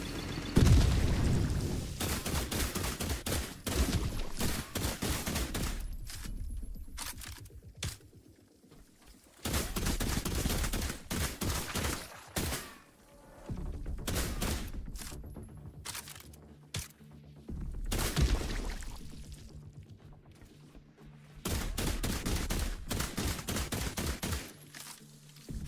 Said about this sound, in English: We're going to throw the fire grenade over there.